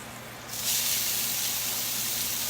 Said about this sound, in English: Now we're going to add our onions and start browning those.